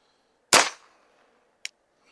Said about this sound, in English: Let's try another 10-shot group with the CCI Standards.